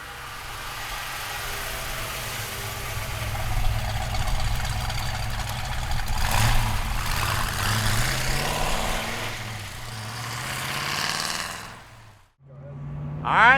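A 1965 Ford Mustang convertible with a new crate motor running, a steady low engine rumble with a few revving swells, then a brief drop before the engine surges again, close and continuous.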